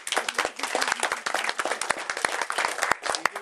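Wedding guests clap for a man marking his 40th birthday during a best man's speech, a dense burst of close, crisp handclaps from a crowded room that runs steadily for a few seconds.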